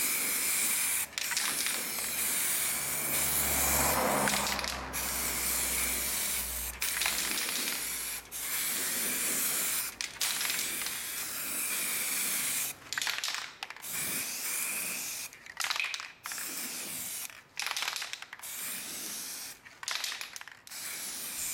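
Spray paint applied in coats to car wheels during a rust-removal and repainting job, a loud sustained hiss broken into long bursts with short gaps and clicks, growing choppier toward the end.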